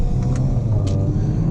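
A 2017 Audi A5 2.0L Quattro with a Stage 1 tune driving along twisty roads, a steady low engine and road rumble heard from inside the car, with no talk.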